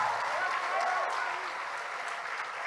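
Audience applause fills a church conference hall, a steady sustained clapping that carries through the whole moment at moderate level.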